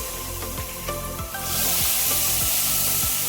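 Water poured into a hot kadhai holding sugar to make syrup, producing a sudden rush of loud hissing that sets in midway and carries on steadily over faint background hum, close by and without voices.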